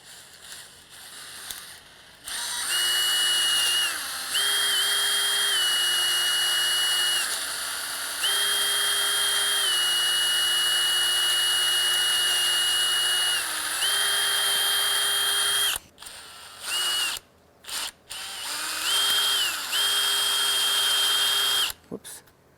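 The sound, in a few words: power drill drilling out door latch screw hole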